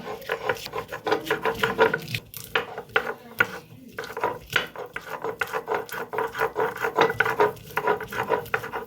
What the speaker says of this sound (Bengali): এবার বাদাম আর কাঁচা লঙ্কাটাকে খুব মিহি করে বেটে নেব।